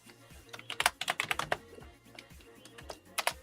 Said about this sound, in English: Oh my gosh, I can't type.